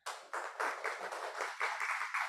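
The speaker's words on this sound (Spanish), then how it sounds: "un aplauso" Applause from an audience at a talk, steady clapping in repeated bursts, fairly close and unbroken across the short stretch with no speech over it.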